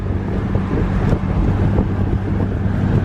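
2014 Infiniti Q50 with muffler delete, all-wheel drive, at full throttle from inside the cabin: a loud, steady low engine roar with road and wind rush, constant for a few seconds.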